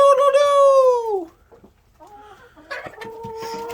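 Large Orpington chickens, a molting backyard flock, cluck and call loudly up close, with a long drawn-out call followed by shorter clucks and squawks.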